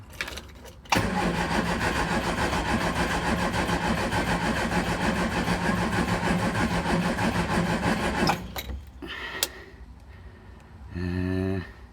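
A Triumph Spitfire MK3 engine cranks with the choke on for about seven seconds of steady, loud, whirring churn, then stops, followed by brief clicks and a short repeated pulsing sound.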